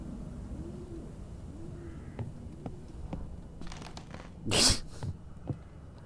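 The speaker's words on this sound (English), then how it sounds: "That's a pigeon." A pigeon in a video game gives a few soft, low coos over a steady background hum, followed by a brief louder rustling burst.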